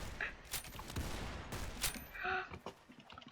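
Roblox Arsenal gunfire, several sharp close shots in quick bursts with brief gaps, fairly loud over faint game sounds.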